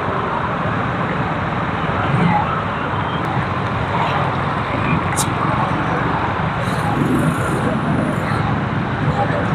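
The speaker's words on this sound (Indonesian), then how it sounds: "membuat macet karena semua kendaraan lewat di sini cukup panjang." Road traffic noise from a long jam of vehicles on a flooded road in Sungguminasa, Gowa, South Sulawesi: a steady dense rumble of engines, with a faint siren-like tone and a brief beep, under continuous talking.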